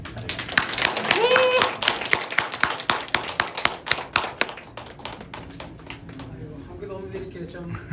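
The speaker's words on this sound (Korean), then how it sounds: "다 같이 좀 박수로 마음을 드리겠습니다." A church meeting audience gives a round of scattered, uneven hand claps, close and distinct at first, then thinning out while a person begins speaking.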